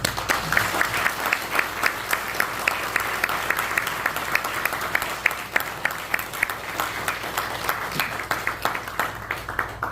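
A church congregation applauds a retiring pastor at a Korean-American Presbyterian retirement and installation service, sustained dense clapping from a large crowd that holds steady for about ten seconds.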